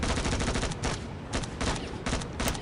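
Enemy gunfire in a video game, dense overlapping volleys of shots that are loud and close, with brief lulls between the bursts and no talking.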